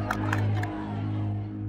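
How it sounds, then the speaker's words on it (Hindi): A studio audience claps and cheers for a young woman about to sing in a drama scene, a short lively burst of crowd noise over a steady musical backing. "तालियां तालियां भाई"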